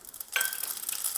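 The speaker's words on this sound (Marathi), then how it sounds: "तेल छान तापले. आता राई घालायची आहे," Mustard seeds hit hot oil in a pan for tempering, a sudden close crackling hiss that starts partway in and keeps fizzing steadily without voices.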